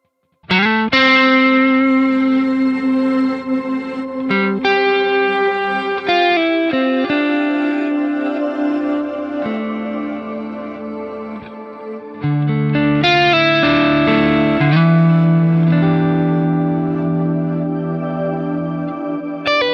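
Electric guitar through a Quad Cortex reverse delay with reverb and ducking, sustained swelling chords and notes with washy trailing repeats, loud and continuous with a fuller chord entering partway through, no talking.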